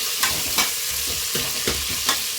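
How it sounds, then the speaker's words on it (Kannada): Onion, added along with some curry leaves, fries in a pan. A constant sizzle is broken by several rhythmic stirring scrapes close by, with no speech. "ಹಾಗೆ ಒಂದು ಆನಿಯನ್ ಈಗ ಒಂದ್ಸರಿ ನೀಟಾಗಿ ಮಿಕ್ಸ್ ಮಾಡ್ಕೊಳ್ಳಿ"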